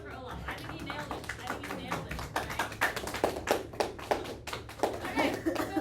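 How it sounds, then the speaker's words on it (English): Students in a classroom clap after a classmate's performance, a scattered, uneven patter of hands that builds over several seconds while people keep talking throughout. "a round of applause for Olaf"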